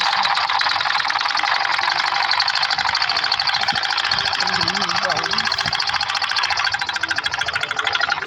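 A sewing machine stitches trousers from the inside seam, a fast continuous rattling whir close by and steady throughout, with a voice talking faintly underneath.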